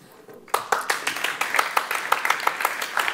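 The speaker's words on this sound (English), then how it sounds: "And I want a big applause for Pietro." A conference audience at an app developers' event breaks into applause for a speaker, with sharp individual claps starting abruptly after a brief quiet moment and continuing as a lively, fairly close patter.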